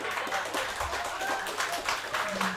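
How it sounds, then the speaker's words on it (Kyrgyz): An audience claps at a Kyrgyz stand-up comedy show in a cafe: dense, sustained applause fills the room for a few seconds. "2 жаш бактылуу болсун дегендер, катуураак кол чаап койгулачы"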